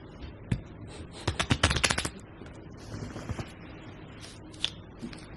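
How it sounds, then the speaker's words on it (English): Playing cards are shuffled by hand, giving a quick flurry of sharp riffling clicks followed by scattered softer card snaps, close and fairly quiet. "I'll show y'all how to shuffle some cards"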